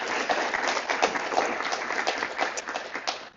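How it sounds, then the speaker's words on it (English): An audience at a National Honor Society induction claps in a steady patter of applause that continues through the whole stretch without pause. "So please give those people a round of applause for all they do for us."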